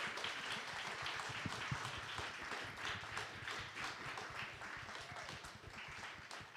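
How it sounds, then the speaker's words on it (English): An audience claps for the panelists at a tech industry symposium, a fairly quiet, distant patter of many hands that continues evenly throughout. "Can we give a round of applause to our panelists?"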